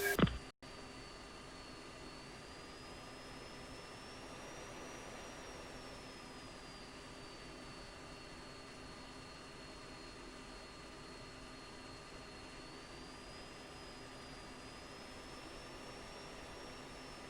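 Steady jet engine roar of a fighter jet rolling down the runway for takeoff in the Falcon BMS flight simulator, a continuous loud whine and rumble with a rising tone, no talk.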